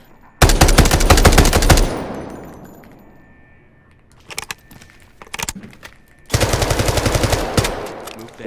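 MK-47 rifle fire in the video game Delta Force: two loud, rapid automatic bursts, near and dominant, separated by scattered single shots and quieter mechanical clatter.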